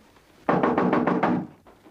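Rapid series of about six firm knocks on a door, close and loud, followed after a short pause by a fainter final knock.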